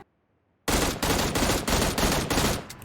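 Rapid automatic fire from an M16 rifle in the mobile battle-royale game Game for Peace, a loud burst of close gunshots breaking out of silence and continuing in quick repeated volleys.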